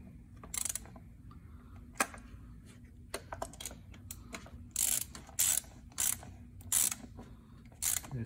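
A ratchet snugs down the manifold bolts on a 2016 Honda Fit GK5 in short runs of close, crisp clicking separated by pauses, with faint background noise and no voices.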